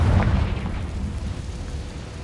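A Confringo fire-blast spell bursts in the Hogwarts Legacy video game, a low rumbling boom that swells at the start and rolls on steadily with no talking.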